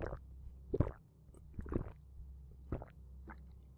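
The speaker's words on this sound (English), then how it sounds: "He's still drinking it." In the horror game Fears to Fathom, a character gulps from a water bottle, producing a series of wet, squishy swallowing and sloshing sounds spaced irregularly, fairly quiet and close with no speech.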